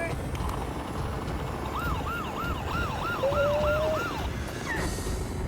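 A toy ambulance siren wails in a rapid up-and-down pattern several times, fairly faint over a busy background of play noise, followed by a brief steady tone.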